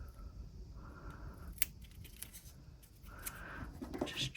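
Small snips of scissors trimming excess material from a handmade resin plant-watering dispenser, a few brief quiet cuts close by, with no talking.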